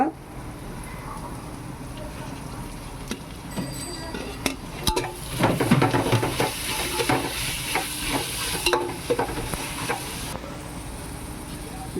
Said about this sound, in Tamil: இந்த இஞ்சி பூண்டு அந்த வாசனை பச்சை வாசனை போகிற வரைக்கும் இதை நல்லா கிண்டி எடுத்துக்கணும்